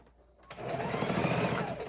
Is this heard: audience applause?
no